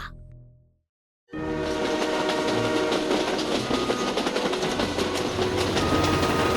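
After a brief near-silence, a train in the video game Monkart suddenly rolls into its terminal station loudly, rumbling and rattling steadily with metallic clatter and a faint horn-like tone.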